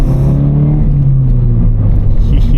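A Scion FR-S with a Berk muffler delete accelerates on the road, a loud, close, deep exhaust drone whose pitch holds and then eases slightly, with no talking.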